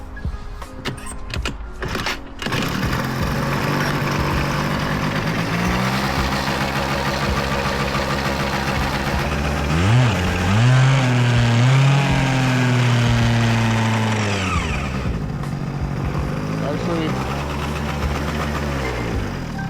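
A Zuma scooter undergoing restoration runs with a steady mid-pitched engine drone, climbing in pitch around the middle as the throttle is opened, then settling back to idle; clicks and knocks are heard at the start.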